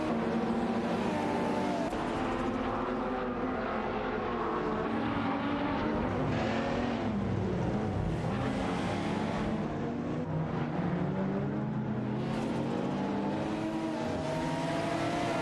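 In a racing video game, a Lotus S6 Turbo Esprit 80 and a Lamborghini Diablo VT race with continuous, loud engine whine and revving that rises and falls in pitch as the cars compete.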